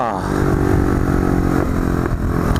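A Honda Cub motorcycle engine revs close and loud throughout a short ride outing, a steady mid-pitched buzz with harmonic whine that rises and dips, plus light clatter.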